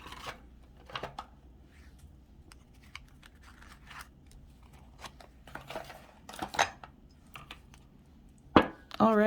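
Tarot cards being shuffled and handled at close range, soft scattered riffles and sharp snapping clicks in an otherwise quiet room, with someone starting to speak at the very end.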